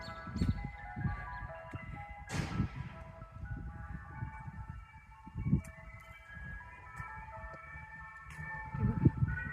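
An ice cream truck rolls through an American residential community in spring, its tinny jingle melody ringing out steadily over moderate street ambience, with a louder passing burst early on.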